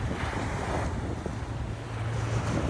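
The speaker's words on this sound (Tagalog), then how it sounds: "Ayan na yung alon, no?" Surf washing onto the beach at Zambales, a steady broadband wash of waves with wind buffeting the microphone, continuous and fairly close, with no voices over it.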